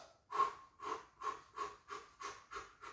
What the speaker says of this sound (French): j'ai expiré, il y a un moment où j'ai forcé pour expirer et mon inspiration revient toute seule